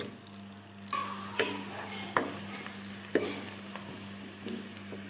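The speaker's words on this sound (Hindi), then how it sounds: "प्याज जो है वो हमारा यहाँ पे फ्राई हो गया है।" Onion frying in a pan for daal mash, a continuous close sizzling hiss with a few sharper stirring scrapes and clicks at irregular intervals.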